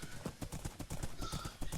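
Horse hooves clip-clopping in a video game, a quick, steady run of close, loud hoofbeats with a faint whinny.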